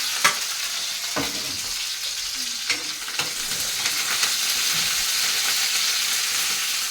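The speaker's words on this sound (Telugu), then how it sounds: "కరివేపాకు తిప్పట్లాగేస్తుంది." Curry leaves crackle and splutter in hot oil, with sharp pops over a steady frying hiss and occasional stirring, close and fairly loud with no voices.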